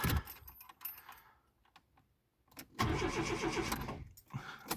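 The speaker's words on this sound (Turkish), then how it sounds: "Şöyle marşa bir kez basacağım." Starter motor cranking the engine of a Tofaş car, a loud, steady whirring burst of about a second and a half after a quiet pause, with clicks and mechanical rattles before and after.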